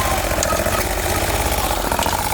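A Sears 6HP diesel engine runs steadily at close range, a loud, even chugging idle with a rapid regular knock and vibration throughout, with no talk over it.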